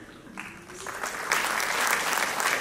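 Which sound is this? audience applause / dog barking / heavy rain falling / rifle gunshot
audience applause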